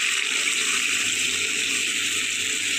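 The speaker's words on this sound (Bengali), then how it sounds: "এবার আমি দিয়ে দেবো পরিমাণ মতো জল।" Water pours steadily into a pan of sautéed potato and pointed gourd curry, a continuous close rushing gush lasting a few seconds with no voices.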